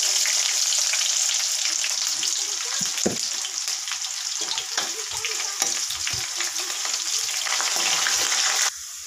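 Onion and bay leaf with cumin and black pepper frying in a hot pan, giving a steady bright sizzle with occasional stirring scrapes, close and continuous, with no talking.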